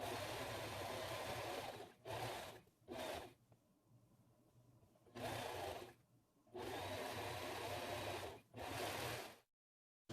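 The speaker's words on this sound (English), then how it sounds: "This is my serger machine. I'm just gonna close it up here before I turn it inside out." A serger sewing machine runs in several bursts while closing a seam on stretchy pants, its motor whirring loudly for a second or two at a time between short pauses, with no talking.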